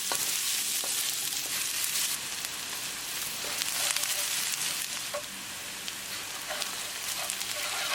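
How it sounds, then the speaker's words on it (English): Onions sizzle steadily in a pan as they cook toward translucent for chicken marsala, a constant hiss with occasional light stirring clicks, close and without talk. "Mix it. and keep cooking until they are nicely translucent"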